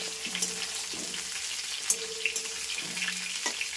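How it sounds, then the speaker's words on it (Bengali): Pointed gourd (potol) frying in a pan, a continuous hiss of sizzling oil with faint crackles and a few soft knocks, heard close with no talking. "কিন্তু পটলটাকে ভেজে নিই।"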